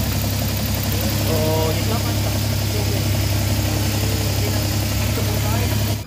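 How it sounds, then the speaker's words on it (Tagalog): A Suzuki DA17 engine idles roughly at high RPM, a steady loud mechanical hum with a persistent low drone and faint uneven vibration throughout. "narinig nyo na sobrang ingay talaga ng makina"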